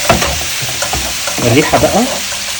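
Food sizzles loudly in a pan while being stirred and flipped, with close scraping and bursts of frying noise, and a voice speaks intermittently over the cooking.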